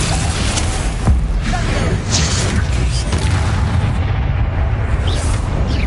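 Explosion spells going off in Hogwarts Legacy on PS5, a loud continuous barrage of booming blasts and crackling bursts that overlap and rumble throughout.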